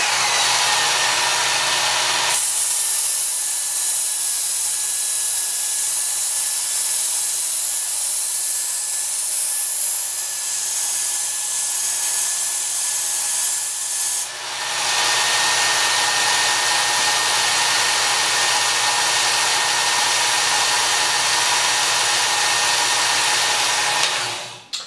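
A Work Sharp Ken Onion Edition variable-speed knife sharpener grinds a blade edge to raise a burr, its motor whining steadily with a hissy abrasive belt sound, a brief dip midway, then resuming until it cuts off at the end.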